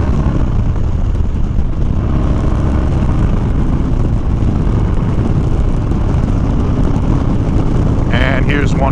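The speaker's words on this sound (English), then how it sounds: "All right, 60 mile an hour, quick brake check." Harley Dyna motorcycle cruising at 60 mph, steady loud engine drone mixed with heavy wind rush throughout, a brief higher-pitched sound near the end as it brakes.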